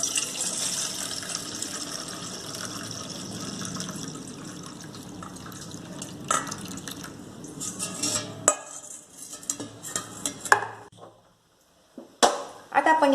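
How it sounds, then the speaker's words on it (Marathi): Water is drained from rinsed barnyard millet (bhagar) in a kitchen, trickling and splashing with clinks of a metal pot and utensils, faltering into scattered drips and clatters, with a voice talking partway through. "रोळलेली जी भगर आहे त्यातून आपण आधी पाणी काढून घेऊयात"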